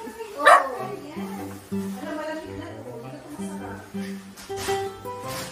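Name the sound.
dog barking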